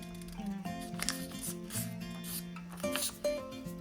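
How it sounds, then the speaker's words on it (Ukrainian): A small paper sheet, about 8-9 cm, being folded in half for a Valentine's Day card, heard as soft rubbing and creasing rustles under steady background music. "Беремо листочок 8-9 см, згинаємо навпіл"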